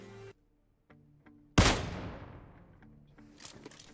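A single sharp, loud gunshot in a shooter video game, cracking suddenly and trailing off in a long echoing decay, with faint quieter game sounds before and after.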